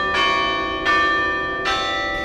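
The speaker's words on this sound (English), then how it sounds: "Around 1:15 in the afternoon, the bell tower played Hark the Sound." A campus bell tower at UNC-Chapel Hill rings out Hark the Sound: three loud struck bell notes in slow succession, each with a bright attack and a long, ringing, overlapping hum, with no voices.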